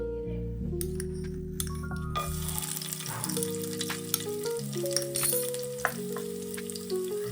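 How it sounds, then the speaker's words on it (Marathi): Cumin and garlic hit hot oil for a methi bhaji and crackle in a bright, close sizzle with scattered pops. Sustained musical tones play underneath the frying. "तेल चांगलं गरम झालेलं आहे आता मी टाकणार आहे जिरा आणि लसूण"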